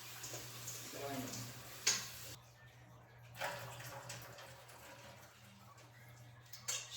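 Tap water runs steadily while raw chicken pieces are rinsed in a kitchen, a low continuous wash with a few clunks and splashes, no talking.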